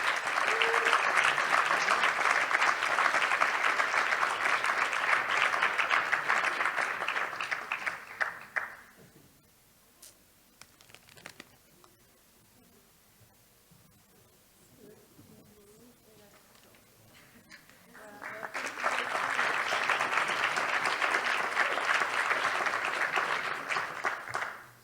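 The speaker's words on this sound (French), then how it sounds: "Donc je vous propose qu'on l'applaudisse." Audience applause at a training presentation, a long burst of clapping that fades to quiet chatter and shuffling, then a second round of loud applause swells up again.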